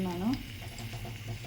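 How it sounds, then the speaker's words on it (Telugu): Dried red chillies frying in a little oil, a soft steady sizzle close by, with a brief vocal sound at the start. "కొంచెం ఆయిల్ అనేది వేసేసుకొని ఎండుమిర్చి అనేది వేసుకుందాం"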